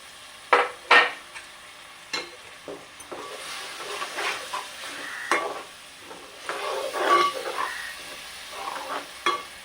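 Ginger garlic paste and tomato paste fry in a pan for a spicy tuna fish curry, soft sizzling broken by clinks and scrapes of a spoon stirring against the pan, no talking.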